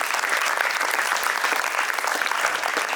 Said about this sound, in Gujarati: એટલા માટે જેને જેને ડોનેશન આપ્યું છે એના માટે પણ ફરી વખત જોરદાર તાળીઓ.